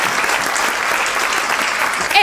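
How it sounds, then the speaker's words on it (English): A dense burst of clapping from a small group welcoming a new co-host, loud and close, with a whoop rising at the very end. "So give her a round of applause."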